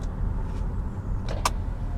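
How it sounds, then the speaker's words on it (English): A Nissan X-Trail's electric power window whirs upward inside the car, a faint motor hum under low road and cabin noise, ending with a brief sharper whine and a soft clunk as it closes. "Put this window up so you can hear me."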